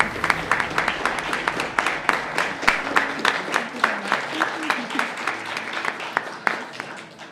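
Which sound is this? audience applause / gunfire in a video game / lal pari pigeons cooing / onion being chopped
audience applause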